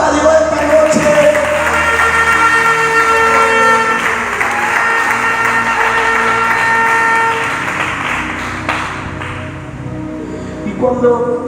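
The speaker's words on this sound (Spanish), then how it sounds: "regálale palmas a Dios esta noche" A congregation at an evening church service claps and cheers loudly for several seconds, with instruments or a horn-like tone sustained through it. The applause thins toward the end, and a voice is heard over the crowd.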